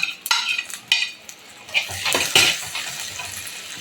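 Chicken being sautéed with crushed garlic and tomato in a pan, heard as scraping spatula strokes and clatter against the pan over an uneven sizzle, with several sharp knocks early on.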